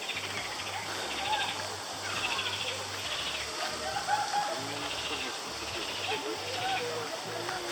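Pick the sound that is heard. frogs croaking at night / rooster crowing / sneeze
frogs croaking at night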